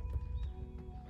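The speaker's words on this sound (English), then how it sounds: "Oh, look at the horse." A horse walks along a hiking trail in Mt Diablo State Park, its hooves giving a few soft, quiet clops over a short stretch.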